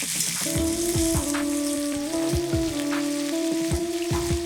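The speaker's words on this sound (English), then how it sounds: "Chuck in some fermented black bean and dump in sliced onion and chopped ginger." Fermented black beans, sliced onion and chopped ginger fry in oil over medium heat, giving a steady loud sizzle with occasional crackles and soft stirring clatter throughout.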